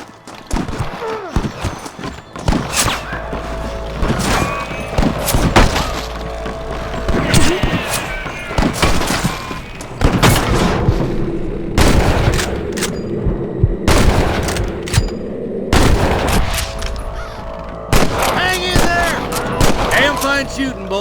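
Gunfire rings out in Red Dead Redemption, loud repeated rifle and pistol shots cracking in irregular bursts amid hoofbeats of horses, with voices speaking between volleys.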